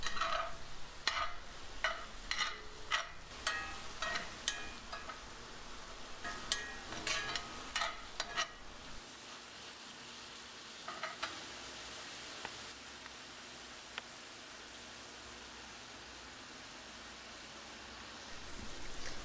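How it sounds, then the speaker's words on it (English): Tomato softening in a hot pan for Yemeni martabak street food, with a steady faint sizzle and scattered sharp ticks and clinks of stirring, busier early then thinning to a quieter simmer. "add the tomato and cook the tomato until it's just softened"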